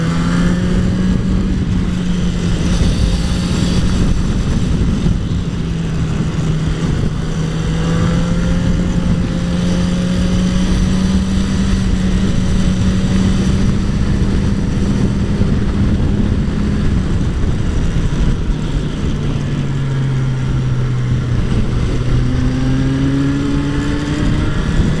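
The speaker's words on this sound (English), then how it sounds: "That's a lot of wind." Strong wind roars against a motorcyclist riding through Portugal, forming a loud, constant rush with the motorcycle engine droning steadily underneath.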